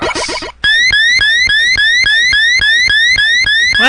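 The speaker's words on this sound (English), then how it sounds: "that's not the most annoying saucer sound I've heard" Electronic saucer sound from the Mega Man video game: a loud, rapidly repeating synthesized chirp with rising tones, pulsing in an even rhythm of roughly ten beats after a short burst of other game noise.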